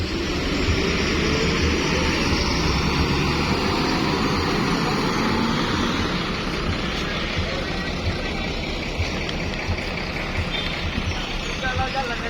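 A heavy diesel engine of an Adi Putro Jetbus 3 Voyager coach rumbles continuously and loudly nearby, a deep steady drone with traffic noise around it as the coach pulls away.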